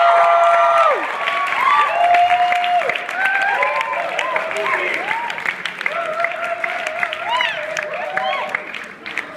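An audience at an evening stage show breaks into applause, a dense wash of clapping that fills the room, heard under a voice speaking over a microphone through most of it.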